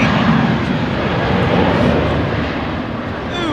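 Qantas QF2 airliner departing London Heathrow, a loud, close, sustained engine roar that holds steady and dips a little toward the end.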